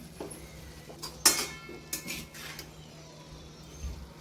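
Moong dal is stirred into dill leaf vegetable in a pan, producing a few scattered metallic clinks and scrapes of a utensil against the pan over a quiet background.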